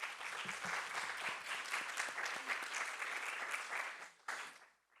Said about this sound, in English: So a big round of applause for all the panelists.